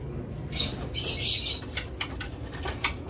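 Close bursts of flapping wings as birds take off, with soft fluttering and a few faint chirps in between.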